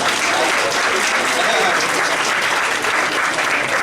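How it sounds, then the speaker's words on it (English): Dense, loud applause from a conference keynote audience of student leaders, sustained and even for the full stretch, with no pauses in the clapping. "Give yourselves a round of applause!"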